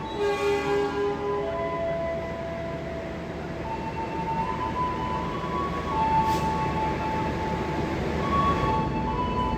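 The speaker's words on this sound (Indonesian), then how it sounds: "Komuter lain Supas berangkat." Supas commuter train pulling out of a station on the Surabaya–Sidoarjo local line, a low steady engine rumble with tonal hums and faint whistle-like tones, moderately distant, no voices.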